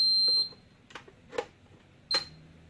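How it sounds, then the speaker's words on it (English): A high electronic warning tone beeps from an above-ground insulator tester assembled incorrectly, then a few soft clicks follow before a second short beep sounds, clear and close. "the instrument alarms to let you know that it's not properly put together."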